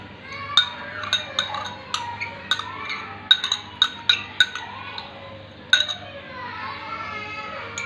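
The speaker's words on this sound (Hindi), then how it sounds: "अब हम इसको अच्छे से मिक्स कर लेंगे।" A spoon clinks against a bowl again and again while cream is stirred into fruit chaat, with sharp little taps at an uneven rhythm over a soft background murmur of voices.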